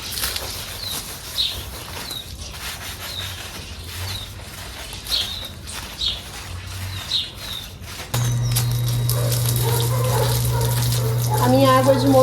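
Water trickles weakly from a tap fed by a motor-driven pump in a home garden, with birds chirping early on and a steady pump hum and stronger flow rising in partway through.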